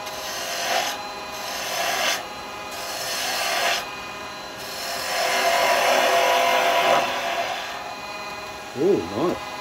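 A spindle gouge cuts wood on a lathe, producing several bursts of raspy scraping that rise and fade over a continuous motor hum, and a voice speaks briefly near the end.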